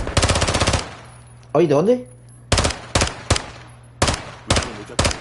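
Rapid automatic gunfire bursts in the Modern Warfare II campaign, loud and close, with a long opening volley followed by several short sharp bursts while someone speaks briefly between them.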